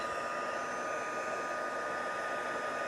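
A hair dryer blows steadily at close range to dry wet pigment sprinkle colours on paper, a continuous airy whoosh with no pauses.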